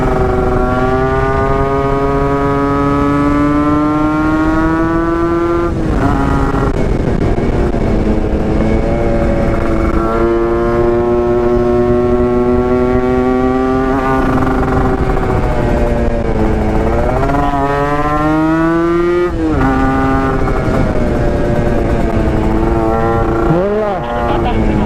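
Two-stroke motorcycle engine ridden hard on a winding road, loud and close throughout, its revs rising and dropping with each gear change and corner, with a sharp rev spike near the end.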